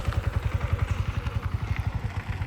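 A learner motorcycle with a faulty accelerator cable runs steadily with a fast, even low-pitched engine pulse, fairly quiet and without talk.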